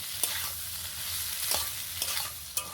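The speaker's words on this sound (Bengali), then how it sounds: "এই সেদ্ধ আলুটা নিয়ে নেব। ভালো করে একটু নেড়ে চেড়ে মিশিয়ে নেব।" A spoon scrapes and stirs mashed boiled potatoes with ginger in hot oil, giving four or five distinct strokes over a soft, steady sizzle. The sound is close and fairly quiet, with no voices.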